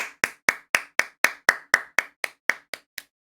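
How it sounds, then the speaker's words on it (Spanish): A dozen single hand claps in a steady, even rhythm about a quarter second apart, close and crisp, the last few slightly softer before stopping. "Un aplauso."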